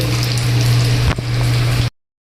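Crabs fry in a hot pan with a steady, loud sizzle, broken by one brief scrape of stirring before the sound cuts off.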